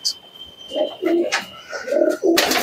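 Andhra tournament pigeons coo in soft, low repeated phrases close by, with a faint high tone and brief rustles between calls.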